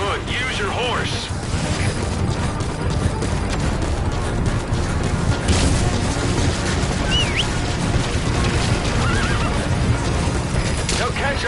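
Horse from the Metal Gear Solid V: The Phantom Pain video game neighing, with its galloping hooves mixed into a loud, dense game soundtrack and effects throughout.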